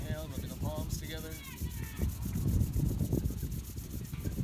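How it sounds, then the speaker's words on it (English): Palms rubbing together during a breathing practice, a soft close rhythmic swishing friction following a brief breathy exhale-like sound at the start. "rubbing the palms together"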